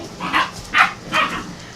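Puppies just over seven weeks old yip and bark around a puppy house during play, three short high barks in quick succession, fairly close and alone.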